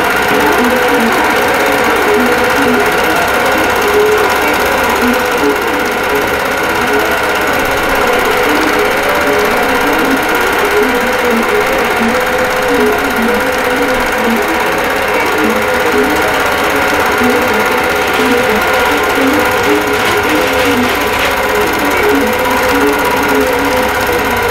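Steady, loud sewing machine stitching out the inner border of a wholecloth quilt, running continuously without pause and close by, with no talk over it.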